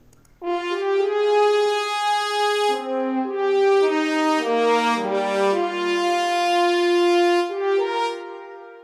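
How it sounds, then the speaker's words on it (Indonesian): A French horn plays a slow, sustained melody with warm, rounded tones, moving smoothly between notes, clear and unaccompanied. "ini French horn namanya ya"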